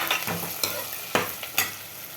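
Vegetables for a sambar frying in a pan, giving a continuous hiss broken by several scraping strokes of a stirring spoon, up close and with no one speaking.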